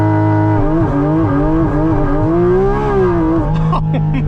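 A Porsche Cayman GT4RS engine revs through its stock titanium factory exhaust, a loud, close, rising and falling howl swept up and back over a few seconds before settling into a lower rumble.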